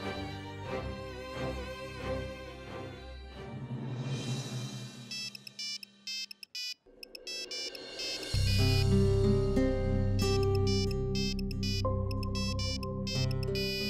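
A phone ringtone plays for an outgoing call, a repeating electronic melody that changes tone partway through and then grows louder and fuller.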